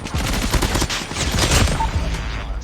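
Rapid automatic fire from the M13 rifle with the Liminal Flare skin in Call of Duty Mobile, a loud continuous burst of shots with electric, thunder-like cracks, sustained until the magazine runs dry.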